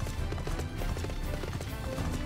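Steady clip-clop of a horse's hooves while riding in the Final Fantasy XIV video game, a continuous rhythmic trot held at an even loudness throughout with no speech over it.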